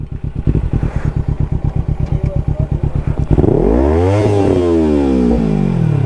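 Motorcycle idling with a rhythmic thumping pulse, then revving up as it sets off, the engine note climbing through rising sweeps under constant wind and road roar.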